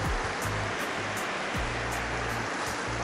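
Water of the South San Am River flows steadily, a loud continuous rushing wash, close by and with no voices over it.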